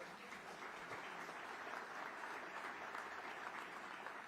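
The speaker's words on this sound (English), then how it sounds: "And a big round of applause for Catherine" An audience at the B20 India Summit 2023 gives a round of applause, a steady wash of clapping that stays faint and distant for the whole stretch.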